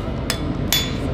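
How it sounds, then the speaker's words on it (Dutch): Two sharp metallic hammer strikes on an anvil during knife forging, spaced apart over a steady background hum. "Ik kan zo hard timmeren."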